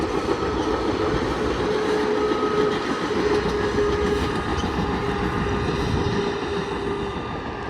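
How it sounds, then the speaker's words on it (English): A southbound Coaster commuter train arrives at the San Luis Rey River crossing from the maintenance facility, a loud continuous rumble of rolling cars with faint tonal hum and steady rail noise. "we start with a southbound coaster that is arriving from the maintenance facility"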